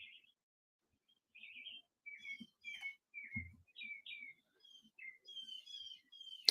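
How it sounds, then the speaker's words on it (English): Birds outside on a morning among tropical trees, scattered chirps and short whistled calls coming in bursts, fairly faint against a quiet background, with a low voice briefly. "There's so many birds chirping outside."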